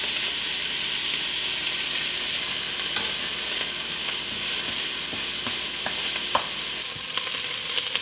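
Chopped onion and celery sizzle steadily in hot oil in a stew pot, a continuous close frying hiss with occasional stirring clicks and scrapes.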